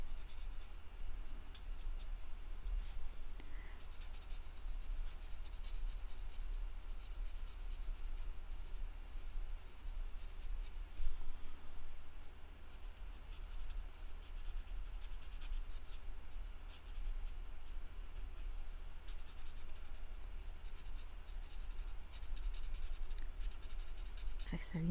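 A card being coloured with coral calypso ink, with a soft, continuous scratchy rubbing of the applicator on paper, faint and close, while someone talks quietly over it.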